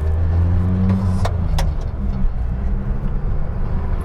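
A first-generation Honda TN-Acty kei truck drones with a steady, buzzy engine hum while driving, loud and close from inside the cab, with a brief rise in pitch as it accelerates.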